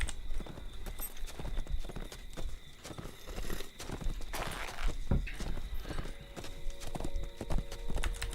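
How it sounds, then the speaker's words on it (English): War steed hooves in the online game Lord of the Rings Online clip-clop in a fast, steady galloping rhythm, close and continuous, with faint game sounds around them. "Watch out, I can barely control this war steed."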